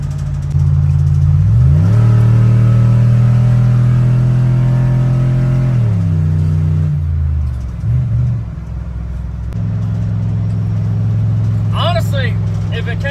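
A truck engine revs loudly while driving, its heavy drone climbing in pitch and holding steady. It dips and roughens briefly, then settles back into a constant rumble that stays close and dominant throughout.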